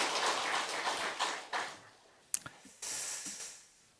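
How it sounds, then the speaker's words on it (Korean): A church congregation applauds during a Sunday service. The clapping is full at first, then thins and dies away within about two seconds. A few sharp knocks follow, then a short second burst of clapping. "하나님께 영광의 박수 올려드립니다."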